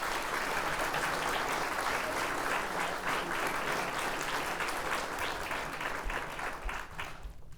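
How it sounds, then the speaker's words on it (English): Audience at a police department promotional ceremony clapping steadily for several seconds, a dense even patter of applause that thins and fades near the end. "Please give her a round of applause."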